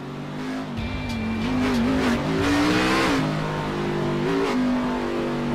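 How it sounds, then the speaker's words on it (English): A NASCAR race car engine in an iRacing game at Watkins Glen revs and sputters unevenly as it runs out of fuel, the tone wavering up and down, loud and close with no talking. "that engine was sputtering, trying to find fuel for power"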